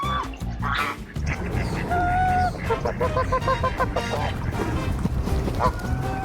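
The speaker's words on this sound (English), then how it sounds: "Found the local goose infestation. There's a lot of them. They're making a lot of noise." A flock of Canada geese honk loudly and repeatedly in a Phoenix park, many calls overlapping close by, with some outdoor noise mixed in.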